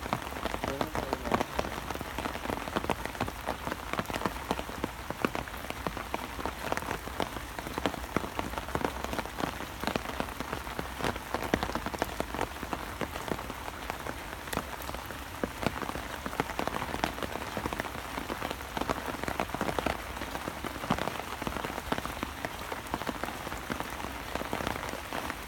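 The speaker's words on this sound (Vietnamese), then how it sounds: "Mưa khá là dày rồi mà mưa này nó lâu tạnh lắm." Heavy rain pours steadily onto surfaces beside a pond, a dense, even hiss that continues without a break for the whole stretch.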